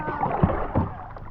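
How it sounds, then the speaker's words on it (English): A kayak paddle dipping and splashing close by in spring water, heard as two soft, sloshing strokes in quick succession. "Here, you paddle out of here."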